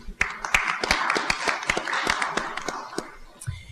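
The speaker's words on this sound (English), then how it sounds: "give her a round of applause" Scattered clapping from a small audience at a city council candidate forum, a steady patter of individual hand claps close by that tapers off after a few seconds.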